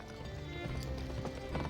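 Horse hooves clip-clopping as a mount walks in the 2005 video game GUN, a steady run of soft hoofbeats with faint game ambience and no talk.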